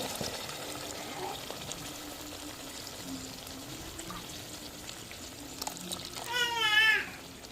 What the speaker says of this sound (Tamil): தேவையான தண்ணி சேர்த்துக்குவோங்க